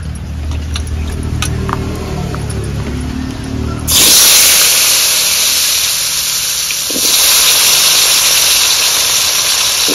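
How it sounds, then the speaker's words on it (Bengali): Potatoes drop into hot oil left over from frying hilsa fish, bursting into a loud, steady sizzling hiss after a few seconds of quieter kitchen clatter, the frying surging again later and continuing to the end. "মাছ ভাজা তেলের মধ্যেই আলুটা ছেড়ে দেব।"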